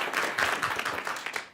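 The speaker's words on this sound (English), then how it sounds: "Go ahead, you can clap. I'll let you clap." Seminar audience breaks into brief applause, a short burst of many hands clapping at moderate loudness, with no voices over it.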